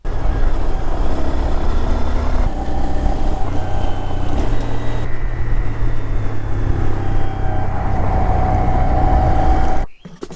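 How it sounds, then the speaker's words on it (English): A 2022 Honda Grom motorcycle is ridden on a quick warm-up spin, a loud, close engine drone with shifting pitch and heavy wind rush throughout, cutting off abruptly at the end. "I'm going to go for a quick spin to warm up the oil before draining it"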